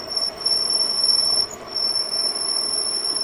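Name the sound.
small ride-on park train running on tracks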